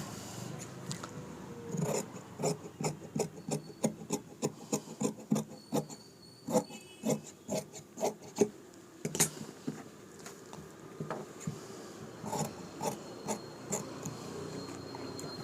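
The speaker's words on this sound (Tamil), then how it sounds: "இப்போ நம்ம இதை வெட்டி எடுத்துருவோமா?" Scissors cutting blouse fabric along a marked margin, a steady series of crisp snips and rasping rubs repeating close by, fairly loud and alone.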